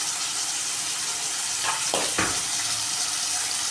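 Ginger paste sizzles in a hot pan, a steady hissing crackle with a couple of louder bursts as it is stirred, close and alone.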